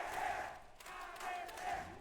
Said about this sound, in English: You can hear the crowd rallying behind them